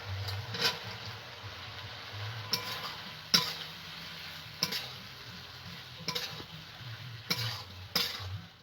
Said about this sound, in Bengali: এবার ভেজে রাখা চিকেনগুলো দিয়ে দেবো।